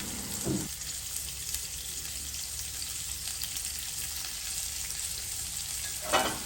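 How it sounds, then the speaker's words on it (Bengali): Chopped onions sizzle steadily in hot oil in a wok, a soft, even crackle throughout, with a brief scrape of stirring at the start and again near the end. "কড়াইয়ে আমি তেল দিয়ে দিয়েছি, এবার পেঁয়াজ কুচি দিয়ে দিলাম।"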